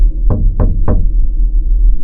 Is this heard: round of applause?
no